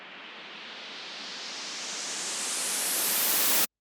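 White noise riser built as a music transition effect, a steady hiss that swells and brightens as it climbs over a few seconds, then cuts off abruptly into silence.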